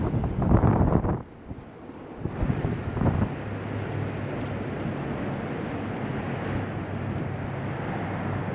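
Strong wind gusts buffet the microphone on the beach at Orange Beach, Alabama, a loud blustery rush at first, then a steady windy roar with a faint low hum underneath; no one speaks.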